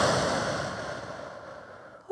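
A long, steady exhale during a core workout, a breathy hiss that slowly fades over about two seconds before a short voice sound cuts in at the end.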